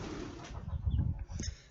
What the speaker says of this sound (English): See the chickens?